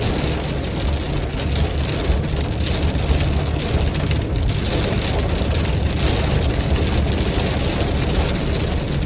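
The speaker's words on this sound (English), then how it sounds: "It's raining" Steady heavy rain pours down close by during a thunderstorm on a trail at night, a dense constant hiss with faint low rumbles from passing cars.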